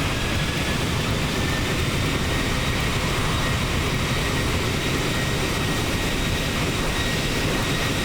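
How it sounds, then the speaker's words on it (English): Boeing 737 reverse thrust after touchdown in the X-Plane 11 flight simulator, a steady, loud, broadband engine roar with rushing noise throughout and no talking. "Here's our touchdown. Reverse thrusters, nose down."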